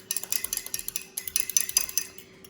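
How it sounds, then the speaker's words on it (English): An egg is beaten briskly for a milk and cream mixture, with rapid, even clinks of a utensil against a bowl, close and clear, about a dozen quick strokes with no speech. "I'm gonna add 1 egg. I like to stir it up a little just so it'll be easier to whisk"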